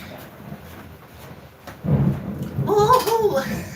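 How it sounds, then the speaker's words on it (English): A low thunder rumble rolls in from a storm, swelling midway and lingering under rain, with a voice speaking over the end. "You hear that thunder"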